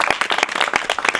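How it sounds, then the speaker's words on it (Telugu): Hands clapping in rhythmic applause at a church birthday gathering, a steady fast beat of close, bright claps from a group filling the moment. "చప్పట్లు కొట్టి ప్రభునామమును కనపరచండి"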